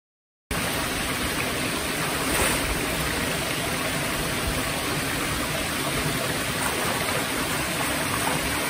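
A river in the Jura forest streams steadily beside a camp, a dense, even rush of water that stays loud and unbroken throughout, with no voices.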